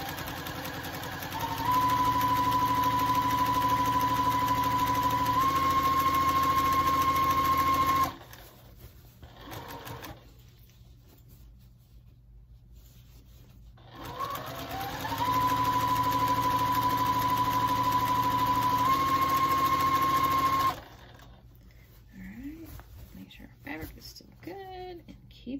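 A sewing machine stitches fabric for a sourdough bread basket liner in two long, steady runs of whirring, rapid stitching, each lasting several seconds, separated by quiet pauses with faint handling noises and a soft voice talking.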